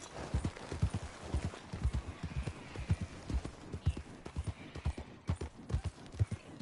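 Horse hooves galloping at full speed in Red Dead Redemption 2, a steady, rapid clip-clop rhythm of heavy thuds running throughout, fairly loud and close, with no talk over it.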